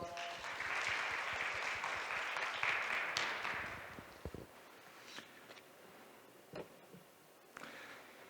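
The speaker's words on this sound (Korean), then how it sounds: "큰 박수로 맞아주세요." Audience applause at a statistics workshop session, a steady dense clapping lasting about four seconds before tapering off into a quiet room with a few scattered claps and footsteps.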